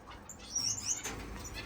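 Finches in an indoor bird room give a few quick, thin chirps and some wing flutter, quiet and close against a soft room hum.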